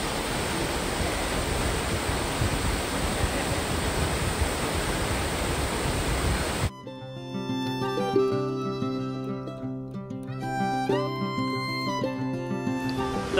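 A waterfall at Thingvellir National Park in Iceland roars as a loud, steady broadband rush for the first half, then cuts abruptly to a musical passage with sustained tones.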